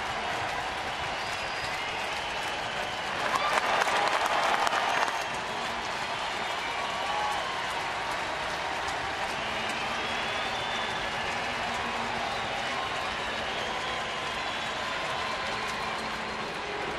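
A crowd at an Oakland A's baseball game rises to its feet with applause and cheering, a broad wash of noise with a burst of clapping early on, then sustained crowd roar.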